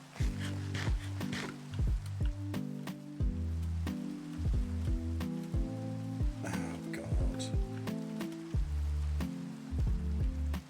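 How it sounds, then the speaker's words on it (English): Rain falling in daytime in a video game, a near, steady patter of drops with repeated, regularly spaced tonal clicks and thumps laid over it and no talking. "it's raining during daytime"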